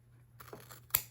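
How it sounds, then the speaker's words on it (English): Scissors snip through a box in a few short crunching cuts ending in one sharper snap, close but faint over a low steady hum. "I will just take my scissors and I will cut up to the top of that"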